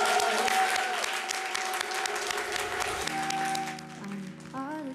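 A TV show's studio audience bursts into loud, sustained applause for a singer arriving to perform a new song. The clapping dominates at first, then thins as the song's music and a singing voice start in the final seconds.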